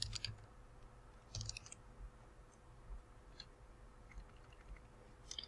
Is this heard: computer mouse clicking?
yes